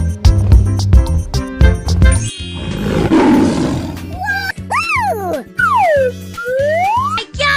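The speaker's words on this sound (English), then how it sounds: "This is lion." A lion roars in a 3D animal slide video game, one broad growling roar amid bright game music with rhythmic beats and sliding tonal sound effects.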